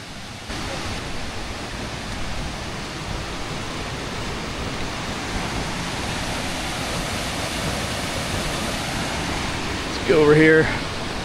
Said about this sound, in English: Oh yeah, I hear a waterfall.